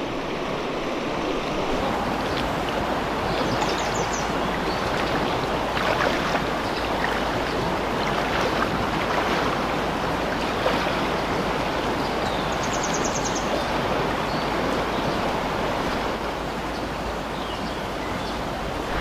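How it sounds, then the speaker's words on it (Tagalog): Steady broadband rushing of a flowing river fills the whole stretch, constant and close, with no voices. "At least malapit tayo dito sa ilog."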